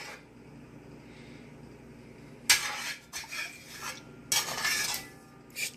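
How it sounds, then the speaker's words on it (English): Irish moss stirred with a utensil in a pot: after a few seconds of near silence, two bursts of scraping and clinking against the pot, close and fairly loud, with no talking. "But I'm just gonna stir it a little bit"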